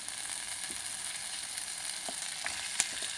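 Taro roots tumbling into softened onions frying in a pan, a steady close sizzle with a few small clicks and knocks as they land, no talk.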